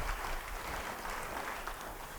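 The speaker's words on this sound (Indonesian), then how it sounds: "Beri tepuk tangan bagi dia." A church congregation applauds together in a dense, steady wash of clapping that holds evenly throughout without a clear break.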